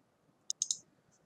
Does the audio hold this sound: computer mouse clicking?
yes